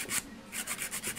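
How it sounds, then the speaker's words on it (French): A coarse-grit nail file rasps across a fingernail in quick repeated strokes, close and steady, with no talk. "Donc là je prends ma lime la plus grosse,"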